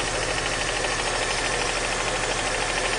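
Car engine idling in a garage with the number 2 cylinder disconnected, a steady, even, rough mid-pitched rumble with a faint knocking texture that holds constant and loud throughout.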